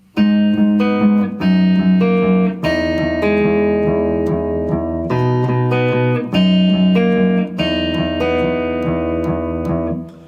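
A loud distorted electric guitar plays the heavy, chugging breakdown riff of a song, with sustained power chords shifting every second or two, continuous and upfront without any talking.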